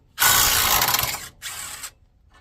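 A ratchet loosens the 15 mm top ball joint bolt on a 2005 Ford E350 van in two loud, close bursts of rapid clicking, the first longer than the second.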